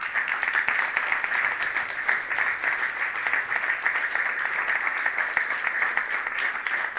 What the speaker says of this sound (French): Voilà, on peut les applaudir également.